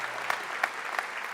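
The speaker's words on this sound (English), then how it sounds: "This is the applause that gets her to the piano" An audience at a songwriters' circle claps steadily in a room, a dense, even patter of many hands with no voices over it.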